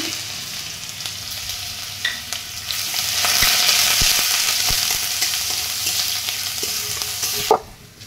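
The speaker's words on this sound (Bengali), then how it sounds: "এখানে আমার রসুনটা ভাজা হয়ে গেছে।" Garlic, dried chili and black cumin fry in hot oil, a steady bright sizzle swelling through the middle with scattered stirring clicks and scrapes and a sharp clack near the end.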